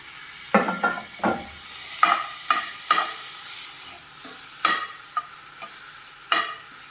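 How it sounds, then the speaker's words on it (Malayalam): Chopped large tomato added to browned spice powders in a pan for a Kerala-style egg roast, giving a steady sizzle with repeated scraping stirs of a spoon, close and fairly loud, with no talking. "ഇതിലേക്ക് ഞാൻ ഒരു തക്കാളി അരിഞ്ഞ് വെച്ചത് ചേർത്ത് കൊടുക്കുകയാണ്."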